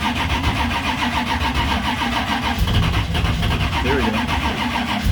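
A car engine cranks and catches on its first start after a carburetor rebuild with new fuel lines, then runs rough and loud up close while someone speaks briefly over it.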